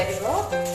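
Half-crushed moong dal sizzles and is stirred in a hot pan for a short, steady moment, a soft scrape under the close frying hiss.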